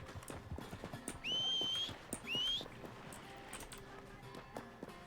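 Rhythmic clip-clop of horse hooves at moderate distance in the video game Red Dead Redemption 2 (RedM roleplay), with two short whistling tones sliding upward partway through.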